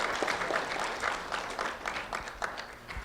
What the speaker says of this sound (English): a round of applause for Brianna Elizabeth Harris.